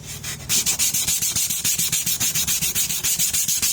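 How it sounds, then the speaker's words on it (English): Steady back-and-forth sanding, a rapid rhythmic rasping of abrasive on a surface, close and loud with no talking. "I make all the sanding going in the opposite direction"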